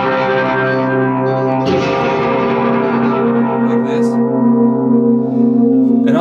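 A sustained, heavily processed guitar tone through an effects pedal hums with harmonic overtones, its timbre shifting partway through as the pedal's sweep function sweeps, loud and close.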